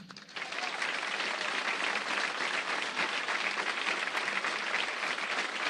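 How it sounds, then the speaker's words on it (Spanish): Steady, dense applause from a large crowd at a pro-democracy rally, rising quickly and holding at an even, full level throughout. "Y también con ese mismo aplauso saludar a las madres y abuelas que nos están acompañando."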